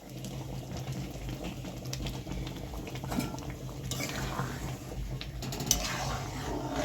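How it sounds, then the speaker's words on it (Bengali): Mung dal boiling in a pot on a home stove, giving a steady close bubbling and rattling churn that runs throughout, with a brief sharper knock near the end. "ডালটা ফুটে গেছে"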